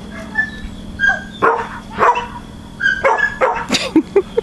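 A dog barks and yips in short bursts, fairly close, with a few higher whimpering yelps between the barks.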